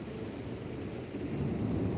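A continuous thunderstorm roar with heavy rain and a low rumble of thunder that swells slightly toward the end, steady and fairly close, with no voices.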